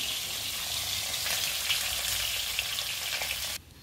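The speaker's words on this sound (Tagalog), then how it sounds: "prito tayo ng tilapia para sa ating pinakbet." Tilapia fish fries in hot oil with a steady, close crackling sizzle that holds evenly for a few seconds before dropping away abruptly.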